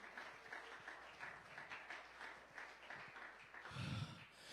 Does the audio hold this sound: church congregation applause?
yes